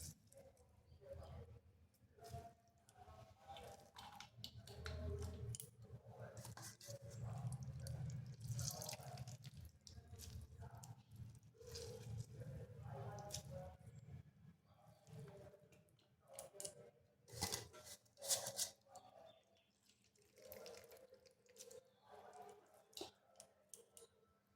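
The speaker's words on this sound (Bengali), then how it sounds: "এরপর এইভাবে চেপে চেপে জলটা ঝরিয়ে নিতে হবে।" Grated raw potato is squeezed by hand, giving soft wet squelches and trickling drips of water over a low background hum, with faint speech in places.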